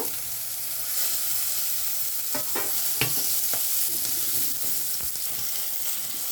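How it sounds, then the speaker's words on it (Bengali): Green chilli, a garlic clove and a little ginger fry in a pan for sambar dal, giving a steady close sizzle broken by several sharp stirring scrapes and clicks. "মশলাগুলো ভাজা ভাজা হয়ে গেছে।"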